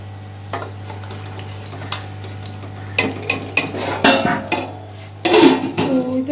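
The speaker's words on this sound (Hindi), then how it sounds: "चावल मैंने इसमें डाल दिए।" Rice grains pour and clatter into a metal pot, with scattered clinks and scraping of utensils, loudest in bursts toward the end; no voices.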